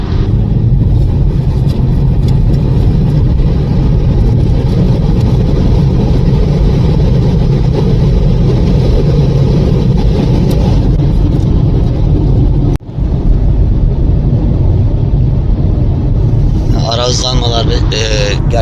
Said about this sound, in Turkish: şimdi bakın 70'ten oturdum gaza